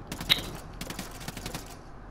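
Gunfire in the Ghost Recon Wildlands video game: a rapid, faint stream of shots rattling in an uneven burst, then thinning out toward the end, with no voices over it.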